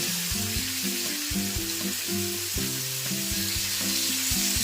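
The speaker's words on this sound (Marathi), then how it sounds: "कमी मिडियम फ्लेमवरती मच्छी ठेवली होती चार ते पाच मिनिट ठेवली होती" Surmai or pomfret fish frying in a pan over a low-medium flame, giving a steady loud sizzle throughout with repeated low rhythmic clattering, no talk.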